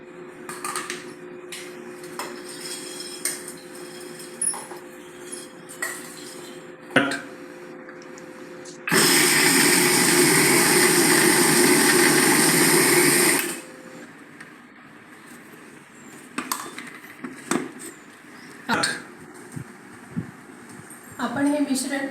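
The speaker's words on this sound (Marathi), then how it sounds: "आपण प्रथम हे मूग मिक्सरला बारीक करून घेऊया" A mixer grinder grinds moong beans in a loud, steady whirring burst lasting about four seconds, set between stretches of talking and light kitchen clatter.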